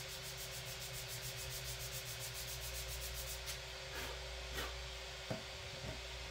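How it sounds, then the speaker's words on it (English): Sandpaper rubs against balsa wood on a radio-controlled plane's cowl adapter, a steady close-up scratchy hiss with a few sharper strokes toward the end. "Better to have to sand it."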